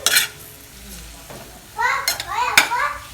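Fried brinjal being stirred into an onion-tomato masala for a curd eggplant curry, soft sizzling under scraping spatula strokes, with a voice chattering faintly in the background.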